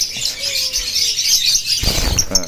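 Lovebirds chirp and tweet at close range amid a busy, continuous high twittering, with a brief flutter of wings near the end.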